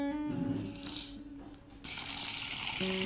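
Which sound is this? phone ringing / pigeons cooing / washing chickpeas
washing chickpeas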